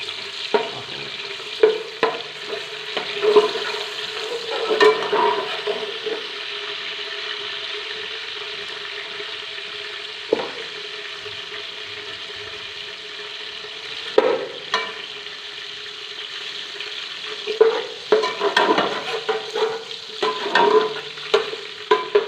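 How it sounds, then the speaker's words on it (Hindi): Fennel seeds, cardamom, cloves and a peanut-almond paste sizzle in hot ghee, with a steady frying hiss broken by repeated scraping stirs and clinks of a spoon against the pot. "घी गर्म हो गया है, इसके अंदर हम ये सौंफ, इलायची और लौंग डाल देते हैं।"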